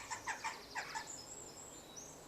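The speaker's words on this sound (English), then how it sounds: "So that sound, a crowing sound" A crowing bird gives four or five quick harsh calls, faint and distant, followed by thin, high drawn-out tones against quiet background noise.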